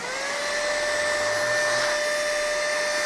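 An Ally Mini 9000Pa cordless handheld vacuum cleaner running in blower mode, producing a loud, steady high-pitched motor whine with a rushing airflow hiss, close up and continuous throughout.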